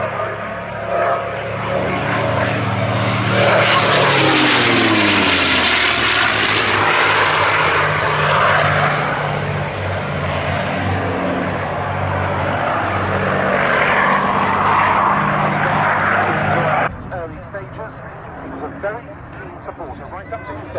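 A P-51 Mustang and a P-47 Thunderbolt fly a paired display, their piston engines building to a loud, close roar as they pass, then holding a sustained drone.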